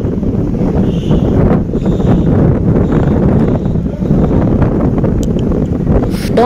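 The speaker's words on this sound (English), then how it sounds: "Don't mind the wind. It's such a windy day today." Loud, constant wind buffeting the microphone on a windy day in Nairobi's central business district, a rough low rumble that roars steadily throughout with no voices heard.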